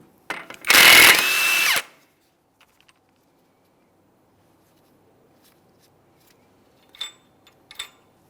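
A power impact tool runs on the 32mm socket over the axle nut of a Mitsubishi Lancer, one loud buzzing burst of about a second, then quiet, followed by two faint short clicks near the end.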